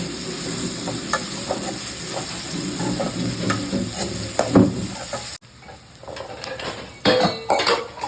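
Onions and tomatoes sizzle steadily in a hot pan while a utensil scrapes and clinks against the metal, stirring in irregular strokes.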